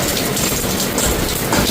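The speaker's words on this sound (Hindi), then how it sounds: "ये देखिए बारिश हो रही है" Evening rain pours steadily and loudly in a dense, even hiss of drops striking surfaces, with no break and no voices.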